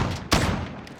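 Single sharp gunshot from a gun fired outdoors in the Call of Duty Modern Warfare video game, a loud crack with a short ringing tail over steady background game ambience.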